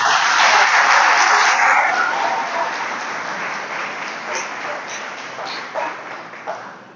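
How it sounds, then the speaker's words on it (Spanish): Church congregation applauding the Lord during a Christian sermon, a loud steady wash of clapping at the start that gradually thins and fades, with a few louder scattered claps near the end. "Dale un aplauso al Señor."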